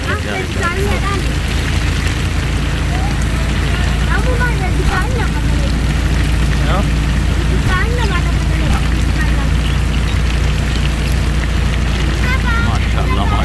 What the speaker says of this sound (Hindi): बारिश बहुत ही प्यारी